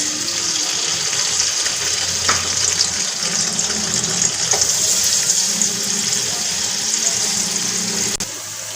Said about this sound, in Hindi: प्याज को अच्छे से फ्राई करेंगे